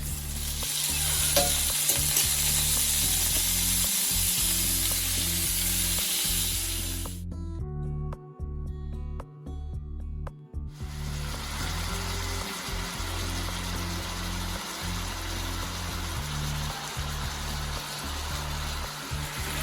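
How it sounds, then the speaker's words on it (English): Steak marinated in soy sauce sizzles loudly in a pan for a Philly cheesesteak, a steady broadband frying hiss that cuts out briefly midway, then resumes just as strong. "All right, so we're just gonna cook our steak for about 6 minutes"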